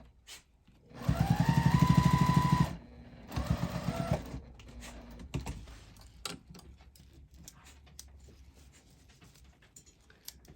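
A sewing machine stitches binding onto a pumpkin-shaped hot pad in a loud, fast, steady whir, pauses, runs again in a shorter burst, then gives way to faint handling clicks and rustles.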